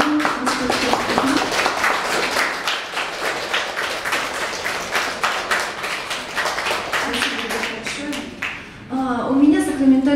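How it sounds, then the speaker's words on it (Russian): An audience claps at the opening of an exhibition of hummingbird photographs, a steady run of close, rhythmic handclaps lasting several seconds before tapering off, with a voice speaking at the end. "давайте похлопаем Елену"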